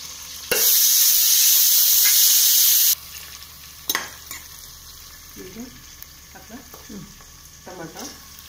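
Onions and green chillies hit a hot pan with a loud sizzle for a couple of seconds, then quieter frying follows with scattered clinks and scrapes of stirring, while cooking khushka rice.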